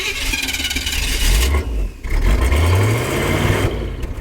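A 1985 Chevy C-20 square body pickup engine running and loading up badly, a loud rough drone that dips briefly and then climbs in pitch as it strains, close by.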